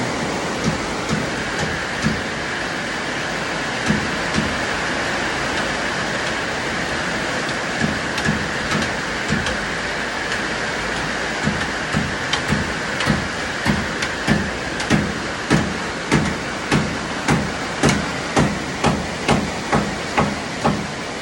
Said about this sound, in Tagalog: Abutan kami ng sobrang lakas ng ulan.